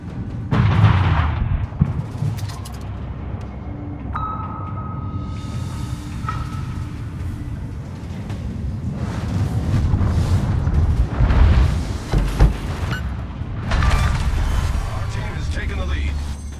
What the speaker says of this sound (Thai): การไล่ล่าของเรือดำน้ำด้วยโซน่าปิง และระเบิดน้ำลึก2สิ่งนี้สร้างความตื่นเต้นให้กับทั้ง2ฝ่ายด้วยเช่นกัน